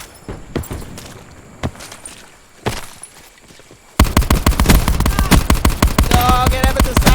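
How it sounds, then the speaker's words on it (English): Sniper rifle fire in a shooter video game: scattered single shots at first, then a dense, loud run of rapid-fire cracks packed close together for the final three seconds, with no talk over it. "That sniper rifle I had a second ago must have had like a 50-round clip."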